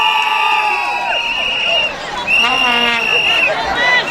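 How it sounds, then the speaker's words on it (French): Crowd noise at a campaign rally for RECRA in Malamalakro, with loud shouting and cheering voices and whistle-like calls rising and falling throughout, a dense, continuous din. "Applaudissez pour les autorités."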